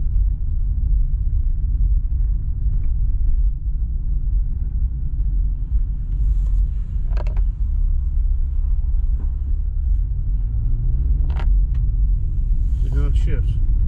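A 2000 Subaru Impreza with 142,000 miles pulls away, its engine giving a steady low rumble throughout, with a few brief faint clicks and sounds over the top.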